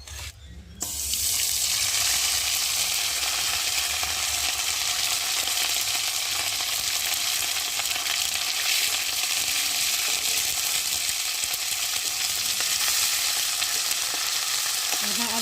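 Ground ginger paste fries in hot oil with a loud, dense, continuous hiss that starts suddenly after a brief clatter and holds steady, like running water. No one speaks.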